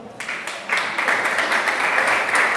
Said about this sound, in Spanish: un aplauso a Armando